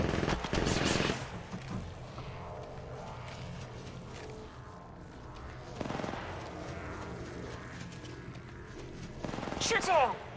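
Gunfire in the Apex Legends video game, bursts of rapid shots near the start and again near the end with a quieter stretch between, mixed with game mechanisms and faint voice.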